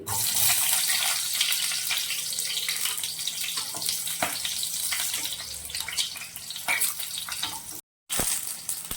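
Onions frying in hot oil in a pan while a Kannada red chutney is being made, a steady hissing sizzle that fills the clip, with a brief silent gap near the end.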